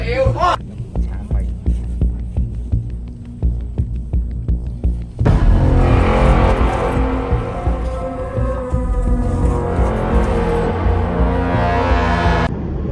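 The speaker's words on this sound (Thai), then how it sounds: "ขับ รถตามเจ้าของสวนไปนะครับ" A car follows a plantation owner along the way to a rubber plantation in Bang Khan, Nakhon Si Thammarat, giving a steady low engine rumble and throb that grows fuller and louder partway through.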